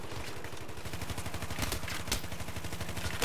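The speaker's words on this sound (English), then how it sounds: "there's someone shooting everything" Rapid, sustained automatic gunfire from a Battlefield 3 zombies mode match, a dense steady rattle of shots running without pause through the whole stretch, loud and close, with a few heavier bursts layered partway through.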